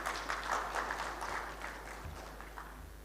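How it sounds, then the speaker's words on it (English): Audience applause at the SwaRaksha Mahotsav 2025, an Indian aerospace, defence, space and geospatial event, a steady wash of clapping that fills the hall and slowly eases off over a few seconds. "Let's welcome Mr. Bedi with a huge round of applause"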